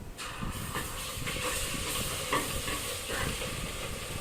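Ginger tossed into hot oil for an egg biryani gives a steady, close hiss and sizzle that carries evenly for a few seconds, with faint stirring clatter underneath.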